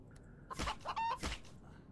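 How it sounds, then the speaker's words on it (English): A chicken clucks in the survival game The Infected, a few short, moderately close squawks and clucks in quick succession against a quiet background, with no talk. "Oh, where's that chicken?"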